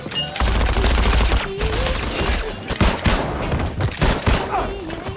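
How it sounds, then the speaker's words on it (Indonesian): A frantic, indiscriminate shooting attack in a film, with bursts of rapid gunfire cracking over a dramatic score, loud and chaotic for several seconds. "seseorang yang berhasil menyelinap langsung menyerang Dan dengan tembakan yang membabi buta"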